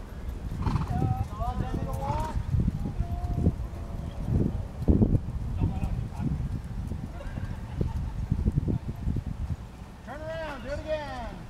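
Horses clip-clop across the ground during a mounted combat class, hooves thudding unevenly beneath frequent talk from riders and instructors, with several whinnies rising clearly near the start and again at the end.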